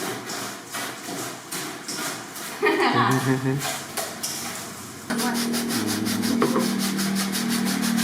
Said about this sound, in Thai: อันนี้ขูดเกลือเขาเรียกขูดเกลือใช่ไหมฮะ